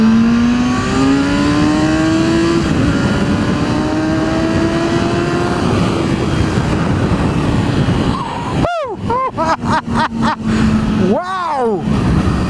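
A Kawasaki Z1000SX motorcycle pulls hard in second gear, its engine note climbing steadily in a loud continuous rising drone, then cutting into quick choppy bursts and revs near the end, with rushing wind noise throughout.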